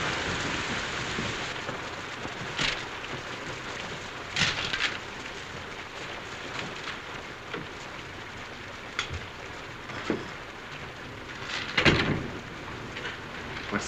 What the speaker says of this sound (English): It's this rain, I guess.